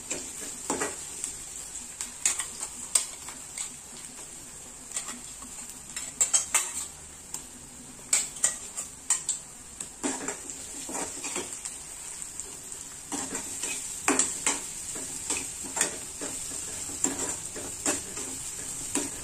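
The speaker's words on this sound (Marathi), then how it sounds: "हिरव्या मिरची आणि लसणाचा ठेचा ऍड करायचा आहे आपल्याला।" Onion frying in a pan as green chili and garlic paste is stirred in for a village-style brinjal bharta, a steady soft sizzle under repeated clinks and scrapes of a spoon against the pan.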